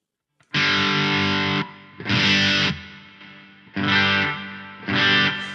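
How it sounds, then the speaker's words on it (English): An electric guitar plays four loud, sustained chords drenched in reverb, run through a Helix Stadium valve preamp into the front of a solid-state amp, each chord ringing and decaying into a washy tail before the next. "this reverb is going straight into the front of this amp"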